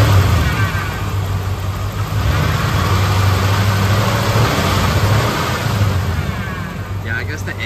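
A Ford F150 fitted with a swapped-in Lincoln Navigator engine idles roughly and loudly up close, its uneven rumble sagging as if about to stall, with voices talking over it.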